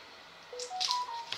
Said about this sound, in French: Ah, téléphone, attendez.